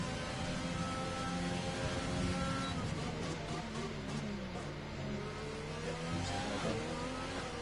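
Haas Formula 1 car in a racing video game at a Grand Prix in Azerbaijan accelerating hard away, a loud continuous high engine whine rising through the gears with other cars' engines layered beneath.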